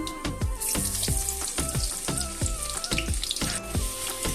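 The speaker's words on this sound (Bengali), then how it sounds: "গাওয়া ঘি দিয়ে দিচ্ছি তেজপাতা দারচিনি এলাচ লবঙ্গ ফোড়ন দিচ্ছি আমন্ড বাদাম কিশমিশ ফোড়ন" Whole spices, almonds and raisins (bay leaf, cinnamon, cardamom, cloves) fry in ghee in a pan for pulao, giving a steady close sizzle with crackling pops throughout and no voices.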